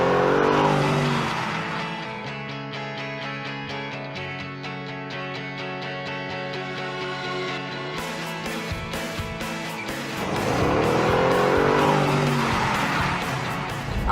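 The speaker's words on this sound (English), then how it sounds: "I don't stand a chance in a race against Harry in a Bentley" A Bentley sports car races hard with loud engine revs and squealing tires at the start and again near the end, while a steady musical backing fills the middle stretch.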